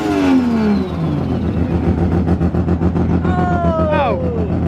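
A drift car with a snapped cambelt revs hard nearby, its engine note sweeping up and down in loud surges, with people talking over it.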